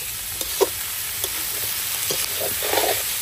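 Onion frying in a little oil with bay leaves and chilli, cooked outdoors at a winter picnic, a steady close sizzle with occasional sputtering pops and soft stirring scrapes.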